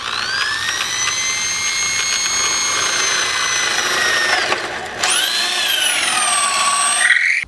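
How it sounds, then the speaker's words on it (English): Power drill boring a hole for a 3/8 inch bolt in a chicken tractor's wheel lift, a steady high whine that briefly cuts out near the end and then spins back up, with no talk. "make a mark where we're going to drill a hole and put this another bolt in"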